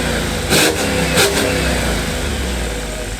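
A Jeep SRT 6.4L HEMI V8 revs up through a Varex muffler with the valve open, a loud, close engine roar with two brief sharp throttle blips rising over a steady deep exhaust drone.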